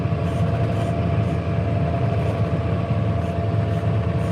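A tractor sowing corn in a dusty field, its diesel engine droning in a steady, close, continuous rumble with a low pulsing throb and no talking.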